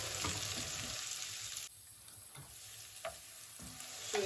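Lamb heart pieces sauté with peppers in a pan, giving a steady close sizzle that drops to a softer frying hiss partway through, with occasional light stirring scrapes and clinks.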